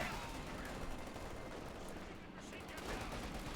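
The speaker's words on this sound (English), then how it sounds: "50 cals there firing away there" Machine-gun fire from .50 cal guns in the Company of Heroes 2 strategy game, a dense, continuous rattle of gunfire and battle noise running steadily throughout with a voice talking over it.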